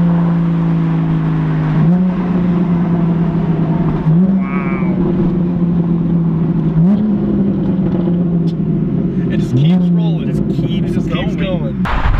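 A rare Lexus LC 500 V8 with an aftermarket exhaust revs up repeatedly, rising and settling in four quick wind-ups over a steady loud idle, with faint voices in the background.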